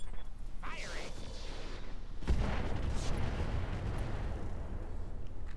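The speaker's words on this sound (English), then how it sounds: "All right, let's shoot up this Centurion." Mech weapons firing at a Centurion mech in the Roguetech battle game, a broadband rumbling barrage with a sharp heavy boom around the midpoint and dense sustained explosive noise afterward, with some voice over the top.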